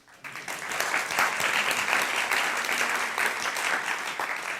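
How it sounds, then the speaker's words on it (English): An audience bursts into sustained, dense applause, loud and close, clapping continuously for several seconds before it begins to taper off. "I've never gotten so much applause for saying something so obvious in my entire life"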